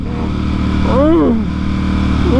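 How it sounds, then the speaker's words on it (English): A superbike's exhaust rises and falls in a sharp rev with a whining harmonic sweep, loud and close, over steady engine rumble. "That sound of that exhaust up in his bike"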